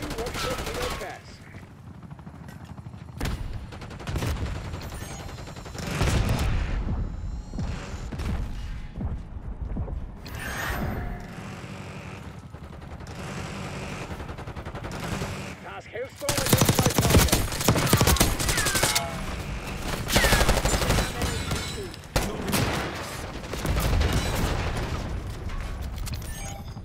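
Heavy gunfire in a multiplayer shooter game, dense bursts of automatic weapons and single shots crackling throughout with booms and explosions, mixed with game voice callouts in the background.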